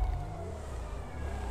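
A police siren wails faintly from a distance at a street shooting scene in Brazil, a thin wavering tone over a low background rumble.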